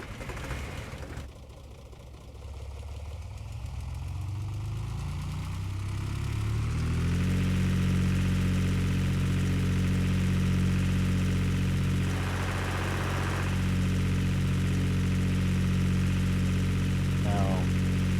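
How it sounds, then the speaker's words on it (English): Tractor engine in a video game starting up and settling into a steady, loud, low idling drone that runs continuously, with brief faint background noises and no clear talk. "The tractor. We need to fire that thing up"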